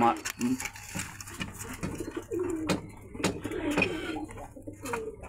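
Pigeons coo at a busy pigeon market, their low throaty calls repeating close by while someone talks over them and other birds stir in the background.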